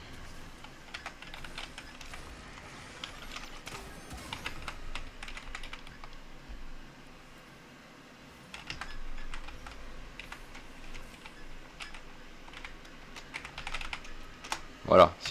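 Typing on a PC computer keyboard during a live stream, bursts of quiet, close key clicks in irregular runs under intermittent speech.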